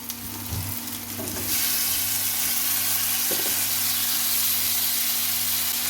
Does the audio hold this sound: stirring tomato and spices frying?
yes